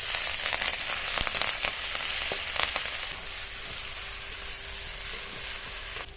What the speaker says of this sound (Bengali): গরম তেলের মধ্যে 2টো শুকনো লঙ্কা দিয়ে দেবো।